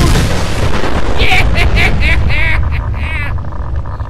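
A nuke explodes at a settlement in the Fallout 4 video game as a loud, continuous, roaring blast and rumble that slowly fades. Game noise and voices can be heard over it.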